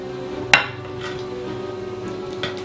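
A ladle knocks sharply once against a plate while pork stew with carrots is served, then quieter scrapes and a second faint clink follow over a low, steady background.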